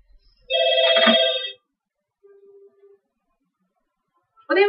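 Telephone ringing in a pawn shop, a loud electronic ring of about one second followed by a faint shorter tone, then another ring starting at the end; no talk over it.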